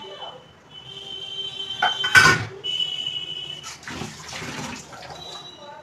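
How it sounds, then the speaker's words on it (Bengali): Hands being washed under a running kitchen tap after marinating chicken, water splashing in short bursts with a brief loud gush midway, soft household background. "হাতটা ধুয়ে নিলাম"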